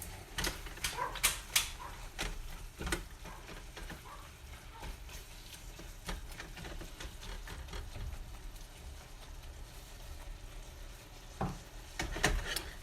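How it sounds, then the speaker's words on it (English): Teriyaki Asian meal stirred in a pan, with scattered scraping and clinking strokes over a steady low sizzle, busier near the start and end, no talking. "we're gonna stir that mug until everything is completely"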